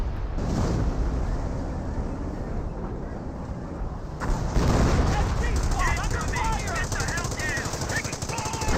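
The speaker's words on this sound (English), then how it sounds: "And now here comes Caliber barrage in a relatively good position there, softening up these Panthers" In the World War II strategy game Company of Heroes, a dense artillery barrage rumbles and booms continuously, with rapid overlapping explosions and gunfire under a commentator's voice.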